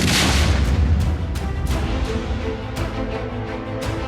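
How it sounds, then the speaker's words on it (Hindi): Drone-dropped bombs exploding during a security forces' encounter with militants in Anantnag, Jammu and Kashmir: a string of loud, deep booms in quick succession, each blast a sharp thud with rumbling decay, heard without talk. "ये पहला धमाका, ये दूसरा धमाका, ये तीसरा धमाका और ये चौथा।"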